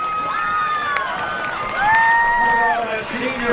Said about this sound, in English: Crowd gives up a big hand for all of the seniors and the parents